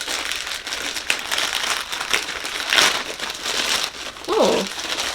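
Plastic wrapping on a Vinted parcel crinkles and tears as it is opened by hand without scissors, loud close rustling in irregular bursts with brief gaps, and a short voiced sound near the end.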